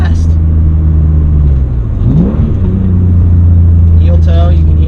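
A sports car is driven fast through corners, its engine rumbling loud and steady with a brief dip and rise in pitch as it shifts, continuous and close.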